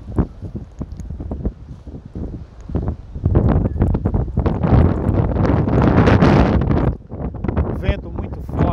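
Strong wind buffets the microphone along a seaside promenade in Fortaleza, Brazil, a loud continuous roar that surges and gusts, with a person talking through parts of it.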